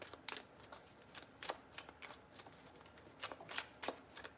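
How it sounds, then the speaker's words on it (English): Tarot cards are shuffled up close, quick papery riffles and soft flutters in short bursts with no talking. "3 shuffles."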